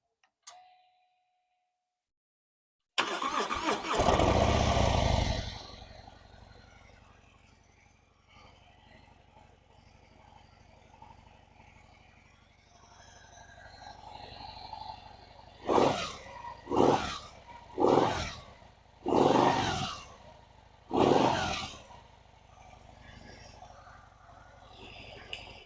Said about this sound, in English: The bike has been sitting all day, so absolute cold start, and let's see how she sounds stock.